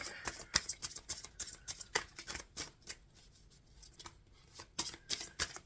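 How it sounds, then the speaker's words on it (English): Rapid, crisp riffling bursts of a card deck being shuffled, close up, repeating in quick clusters with brief pauses between. "Shuffling this deck."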